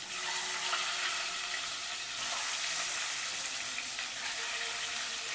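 Salt and turmeric sizzle in hot oil at the start of a Bangladeshi egg bhuna, a steady, dense frying hiss that holds at an even level throughout, with a faint trickle of liquid and no voices.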